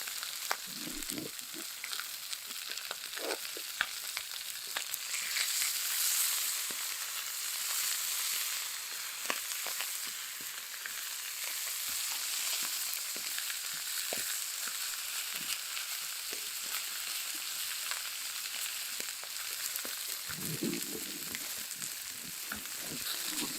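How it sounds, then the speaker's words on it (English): Fish fillets sear skin-side down in brown butter in a pan, giving a steady, soft, close sizzle that runs unbroken for over twenty seconds with faint occasional crackles and no talk. "So we're gonna let this sear up for a while. Get that skin nice and crispy."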